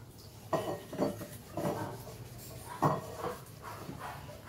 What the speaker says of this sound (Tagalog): Sabunan ko muna ng bote.